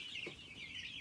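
A coop of around 85 mixed hens, including Reds, Cinnamon Queens and Easter Eggers, clucks and chatters steadily, with one nearer cluck over a constant high flock murmur, at moderate volume and with no talking.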